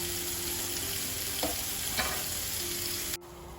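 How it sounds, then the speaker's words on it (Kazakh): Chopped onions sizzle and fry steadily in a hot pan while meat and qazy horse sausage dishes are prepared, with a couple of soft stirring scrapes before the sound cuts off abruptly near the end. "Яғни пиязды кішкене солыңқырап қалғанша қуырамыз."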